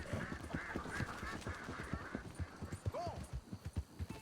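Horse hooves clip-clop at a steady walking rhythm in the Red Dead Redemption 2 video game, moderately close, with a brief rising animal call near the end.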